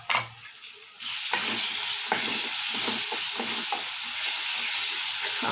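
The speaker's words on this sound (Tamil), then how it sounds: "இதில் பூண்டு, சின்ன வெங்காயம், ஜீரகம், கருவேப்பிலை இதெல்லாம் சேர்த்து அரைச்சிருக்கோம்ல, அதை நம்ம குழம்புக்குள்ளே கொட்டிடலாம்" A ground paste of garlic, shallots, cumin and curry leaves poured into a simmering curry, setting off a loud steady sizzle after a brief quieter moment, with soft stirring scrapes through it.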